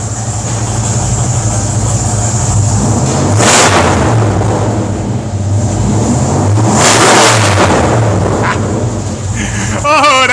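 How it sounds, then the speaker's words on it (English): A 1967 Dodge A-100 van engine with handmade side pipes revs loudly and steadily up close, with two sharp throttle blips rising above the rumble and voices talking over it. "Give her a little gas, bud."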